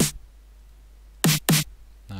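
Snare drum samples from a sample library in FL Studio, played as two sharp, loud hits in quick succession, with a brief attack at the start and another at the end.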